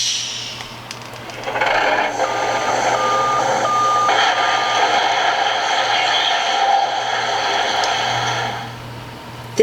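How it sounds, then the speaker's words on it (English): A dump truck reverses slowly at a building site, its backup alarm beeping in an even, repeated rhythm over a loud, steady engine rumble. "At the building site, a dump truck slowly reverses, then unloads lots of rocks."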